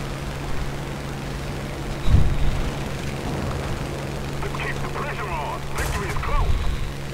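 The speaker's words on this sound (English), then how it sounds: "That was the bomb." A bomb exploding in the War Thunder combat game, a single deep boom near the start over continuous engine rumble, followed by scattered battle noise.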